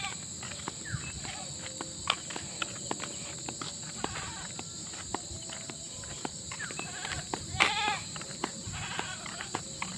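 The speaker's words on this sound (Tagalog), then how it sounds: "Uy, may kambing pa." A goat bleats briefly outdoors on a farm among fruit trees, a short wavering call near the end over steady insect buzz, rustling and faint footsteps.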